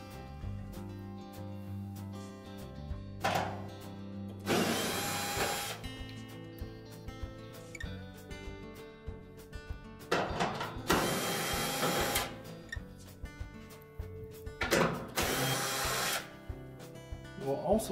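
On a Whirlpool dryer, a power driver spins out the screws holding the front panel and door assembly to the cabinet in several bursts of whirring motor, with a narrated voice talking between them.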